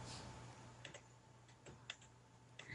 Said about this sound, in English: stop typing on the keyboard